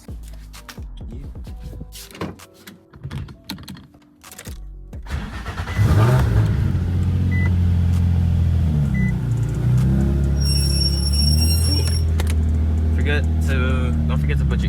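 A Nissan G35/350z with a freshly replaced front wheel hub bearing pulls out of a driveway: quiet handling noises and a door, then an engine starts loudly near six seconds and runs with a steady low rumble.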